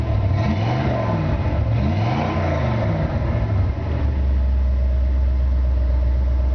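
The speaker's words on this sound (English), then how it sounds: "Touch the key, the car fires right up." A 1963 Ford Galaxie Z-code V8 with Flowmaster dual exhaust and turn-downs fires up, the starter cranking briefly before the engine catches and settles into a deep, steady rumbling idle, close and loud.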